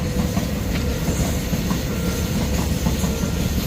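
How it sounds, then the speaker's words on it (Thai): A freight train of cement cars passing close by in Mueang district, Saraburi, Thailand, with a continuous loud rumble, clickety-clack of wheels and faint squeals, and no talking. "มันเป็นรถขบวน สินค้าเนาะ นะครับ ไม่ใช่ขบวนโดยสารนะครับ"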